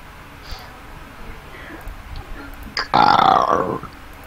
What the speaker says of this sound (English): Did you just burp the word car?